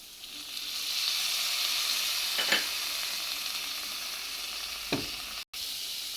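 Tomatoes frying in a pan during cooking of a Gujarati fanasi (jackfruit) shak: a steady, close sizzle throughout, with a couple of brief stirring scrapes, and no voices.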